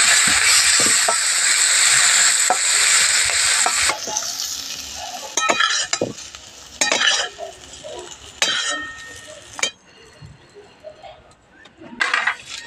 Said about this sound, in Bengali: একইভাবে আমি বাকিগুলোকে দিয়ে ভেজে নেব